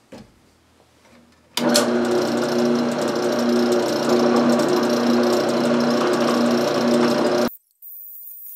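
A Harbor Freight drill press starts abruptly, drilling a large hole with a loud, steady whirring grind for about six seconds, then cuts off, leaving a quieter hum behind.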